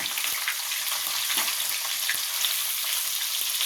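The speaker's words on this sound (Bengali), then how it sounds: "এই চারটে মাথা ভাজি" Four fish heads frying in hot oil for muri ghonto, a loud, continuous crackling sizzle with scattered sharp pops and spits, close by and without talk.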